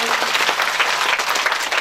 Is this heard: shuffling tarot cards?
no